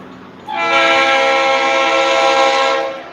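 Train horns blare as two trains sound at once, a loud sustained chord of overlapping tones that swells in after a brief quiet moment and holds for several seconds before easing off.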